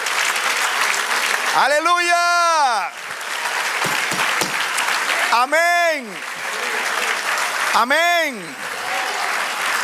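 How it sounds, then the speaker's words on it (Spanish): A church congregation claps through the stretch at a Spanish-language service, the applause running steady underneath while a pastor's voice calls out three times in long, sung-out exclamations. "Denle otro aplauso al Señor."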